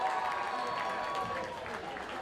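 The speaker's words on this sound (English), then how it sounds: "Crowd gives him a little encouragement." A high school football crowd applauds an injured player leaving the field, a steady wash of distant clapping and murmur from the stands, with a voice faintly mixed in.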